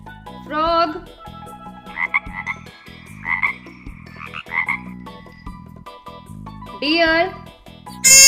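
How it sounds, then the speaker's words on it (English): A frog croaks in a children's animal-sounds sequence, with raspy calls rising over steady background music, loudest near the start and again toward the end. "frog"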